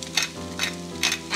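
A chicken croquette mixture is stirred in a sizzling pan in quick, scraping strokes, four bursts of scraping over a continuous frying hiss, close and clear, with no talk.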